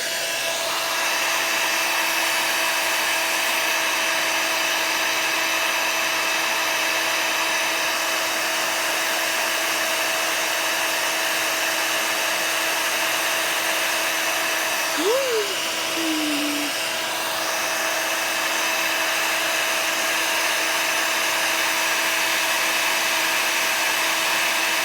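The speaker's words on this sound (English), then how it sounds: "Alright, so I have to turn on this heat gun. I am very sorry about that. It's loud." A heat gun runs steadily and loudly for the whole stretch, with a constant blowing roar and a steady motor whine, plus one brief high chirp midway.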